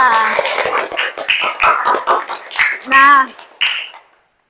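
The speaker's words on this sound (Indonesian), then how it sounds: "Oke, tepuk tangan untuk kita semua." Clapping in a classroom, a series of distinct, fairly loud hand claps in an uneven rhythm, with children's voices and other sounds mixed in before it stops abruptly.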